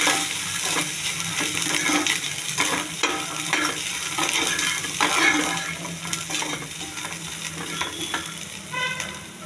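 Chickpeas frying in a tempering with chilli powder and turmeric, a continuous loud sizzle broken by repeated scraping stirs against the pan, with no talking.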